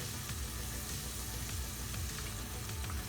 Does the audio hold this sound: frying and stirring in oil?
yes